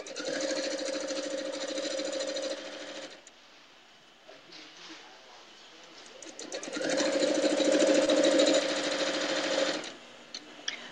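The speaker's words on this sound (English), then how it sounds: "I'm just sewing down the one side, and then I'll add this strip, and we'll sew in the opposite direction next." A sewing machine stitches quilt fabric strips in two long bursts of steady, loud mechanical whirring, separated by a quieter pause of a few seconds.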